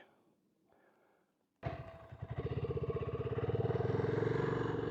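A BSA B65 Scrambler motorcycle engine fires up after quiet rustling, then settles into a loud, close, steady single-cylinder thump that gradually grows stronger and more even.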